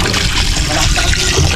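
Water pours and splashes in a loud, continuous gush with bubbling texture, running steadily for a moment close to the listener with no speech over it.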